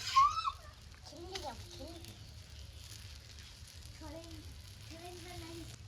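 An egg paratha made with puffed rice fries in a pan, a quiet, steady sizzle running under someone speaking.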